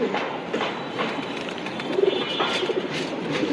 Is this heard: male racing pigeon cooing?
yes